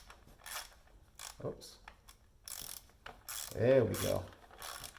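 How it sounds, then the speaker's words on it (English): Ratcheting wrench tightening clutch bolts during a clutch repair gives several short bursts of quick clicking between pauses, close by. Someone speaks briefly near the end. "We may have to actually use the wrench for that one."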